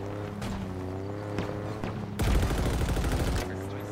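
Shots from a sniper rifle in Halo Infinite during a Big Team Battle match crack out several times, followed by a dense, loud burst of gunfire amid vehicle rumble.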